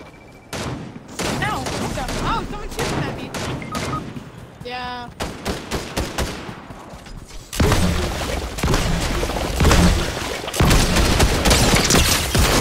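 Loud, dense bursts of video game gunfire in Fortnite, rapid repeated shots and sustained volleys through most of the stretch with brief lulls, mixed with game effects and some talking.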